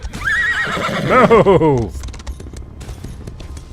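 A horse in the Elder Scrolls Online video game neighs loudly, its whinny rising and falling over a second and a half, with clip-clopping hooves under it. A voice speaks a brief word nearby.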